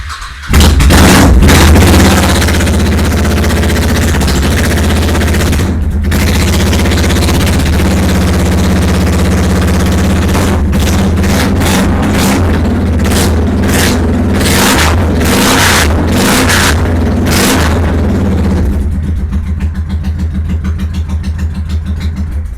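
A cold Honda Shadow Sabre 1100 motorcycle fitted with Vance & Hines Longshots exhaust idles loudly and close, breaking into a series of sharp throttle blips and revs before settling back to a rumbling idle, with no talk.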